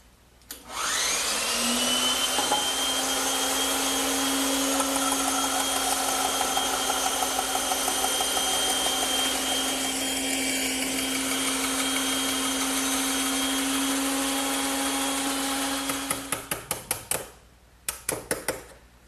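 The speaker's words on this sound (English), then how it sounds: "when I made this shoulder cut on the bandsaw" A bandsaw runs steadily while making shoulder cuts on wooden tenons, a loud continuous hum and whine lasting about fifteen seconds before clicking and rattling as it winds down.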